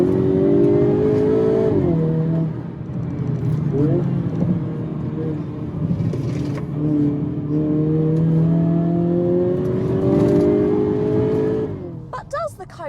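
A Hyundai Kona N performance SUV accelerates hard, its engine note climbing through rising gear pulls with brief shift breaks, loud and close throughout.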